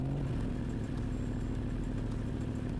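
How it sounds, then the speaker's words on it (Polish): Motorcycle engine in the racing game RiMS Racing, running on a partly disassembled bike, a steady close idling rumble with a low throbbing beat and faint clatter, heard alone. "Nawet jak jest motocykl rozebrany, jeszcze można go odpalić."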